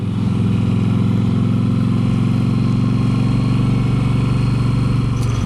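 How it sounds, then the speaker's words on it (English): A Yamaha V-Star motorcycle rides in second gear on a winding mountain road, its engine holding a steady, loud, low drone throughout, heard up close from the rider's position with continuous wind rumble. "Doing most of this in second gear, in case anybody's wondering, on the old VStar."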